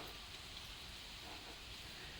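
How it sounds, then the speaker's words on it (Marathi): Steady rain falling at night over farmland with sugarcane crops, a soft continuous hiss with no distinct drops or voices. "आता पाऊस यायला लागला"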